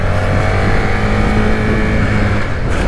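Suzuki SVF650 Gladius V-twin motorcycle engine revving hard and held at high revs, loud and close with a steady buzzing drone throughout, no voices.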